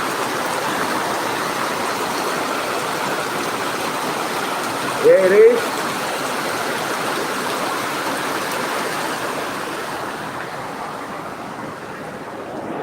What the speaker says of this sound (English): It's raining so heavily.